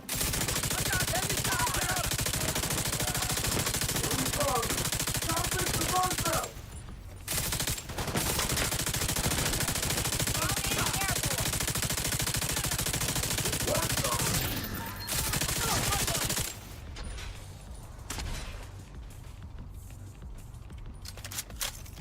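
Gunfire in the video game The Division 2: dense, sustained bursts of automatic fire, loud and nearly continuous, broken by a couple of brief pauses and easing into quieter scattered shots near the end.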